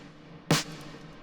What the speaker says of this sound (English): It's like a very kind of a big room type of clap